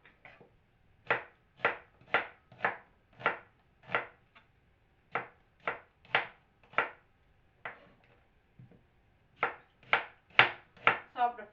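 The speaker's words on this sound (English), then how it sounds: "One onion chop it off." An onion being chopped with a knife on a board for vegetarian chow mein, sounding as close, crisp thuds in quick bursts of rhythmic strokes with short pauses between runs.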